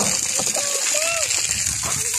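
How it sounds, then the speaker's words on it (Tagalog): Strong flow of water gushing and splashing in a steady, loud hiss that runs throughout, with a person talking faintly underneath. "Lakas ng tubig"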